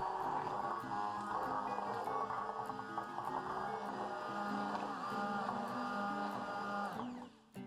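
Continuous whirring of an electric mixer whipping cream steadily at close range, with a mechanical grinding hum that stops abruptly near the end.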